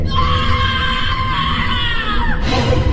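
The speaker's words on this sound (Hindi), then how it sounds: "डर से उसकी चीख निकल गई" A long, loud, piercing scream of fright in a horror story, sustained for over two seconds against a dense, noisy background before it breaks off.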